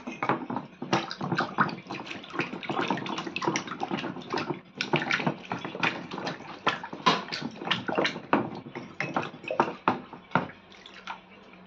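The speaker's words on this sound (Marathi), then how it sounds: "परत मी एकदा वॉश करून घेते" A new clay pot is being washed and rinsed again, with rapid sloshing, splashing and dripping water in close, continuous bursts that pulse unevenly throughout.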